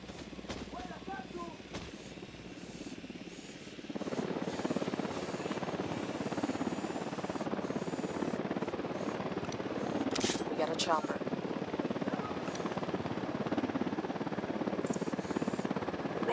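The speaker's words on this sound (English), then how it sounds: "Chopper, down, down." Helicopter in the video game Ghost Recon Wildlands, a steady dense rotor-and-engine roar that swells after a few seconds and stays loud, with brief clicks and gunfire-like bursts and voices speaking over it.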